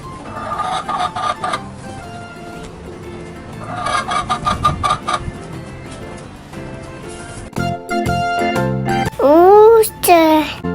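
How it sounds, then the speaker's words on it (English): Hen clucking in a farm-animal sounds lesson, repeated short bursts of clucks in two clusters, then louder rising and falling squawking calls near the end over a faint background. "Hen."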